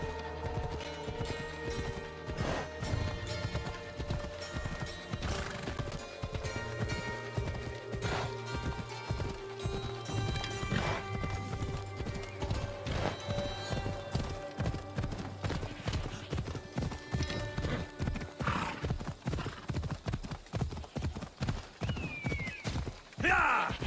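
Horse galloping in the video game Assassin's Creed Odyssey, a steady rapid clip-clop of hooves running throughout at close range, with game music and occasional voices underneath.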